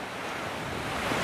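Water rushing straight off the mountain on Scafell Pike, England's highest peak, makes a steady broadband roar with wind buffeting the microphone, constant and close for a brief moment.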